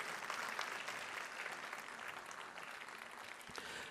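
Dense, steady applause from a large audience welcoming Syed Salahuddin and his fellow poets at a Republic Day kavi sammelan and mushaira, a continuous wash of clapping that fades slightly toward the end with no voices over it.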